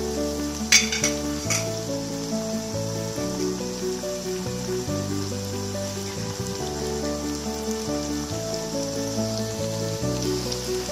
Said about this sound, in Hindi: ये थोड़ी सी फ्राई हो जाएंगी तो हम इनको